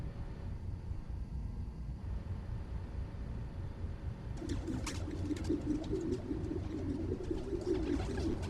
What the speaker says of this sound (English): There's a lot of birds around here.